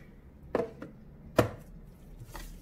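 A knife chopping a banana into small pieces for a blender smoothie, heard as two distinct sharp cuts about a second apart followed by a fainter third tap, close and clear with no talking.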